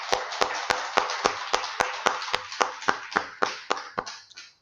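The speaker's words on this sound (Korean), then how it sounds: "박수를 드리겠습니다" A church congregation at an Easter service claps in unison, about sixteen sharp, evenly spaced claps that slow slightly and trail off into a few scattered final claps.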